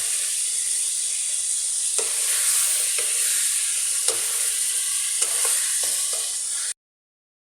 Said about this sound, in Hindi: गोश्त का कलर चेंज होने तक हम इसको जो है ना भूनेंगे।